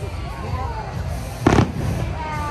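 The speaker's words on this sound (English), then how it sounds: "All right, so they do have fireworks." Fireworks burst overhead at Aquatica San Diego water park, a single loud booming blast rising briefly above a steady bed of crowd chatter and ambient noise.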